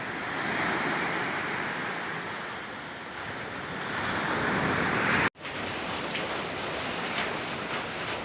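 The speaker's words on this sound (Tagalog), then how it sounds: "Lakas ng alon." Strong sea waves crashing along a coastline, a loud continuous roar of surf mixed with wind buffeting the microphone, one brief cut midway, and no voices.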